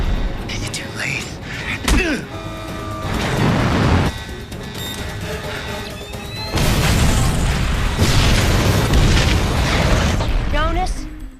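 Huge boom of missiles being destroyed at a fuel depot in a TV drama, a loud broadband blast rolling under a dense action soundtrack with voices, swelling again into a sustained roar midway.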